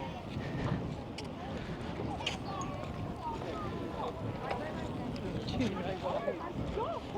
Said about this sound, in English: you always get a bit of wind on the seafront, don't you? But it's getting quite blowy.